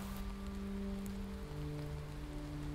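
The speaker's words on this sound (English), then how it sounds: "spitting, blowing rain, wind, almost impossible hunting conditions" Steady rain and wind on a stormy Tongass hillside, a soft continuous wash of drops with low, constant tones humming underneath, faint and unbroken.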